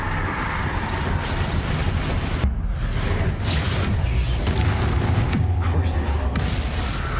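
Bombarda spell blasts in the Hogwarts Legacy video game give loud, dense booming explosions over a continuous rumbling combat din, with sharper hits near the middle and the end.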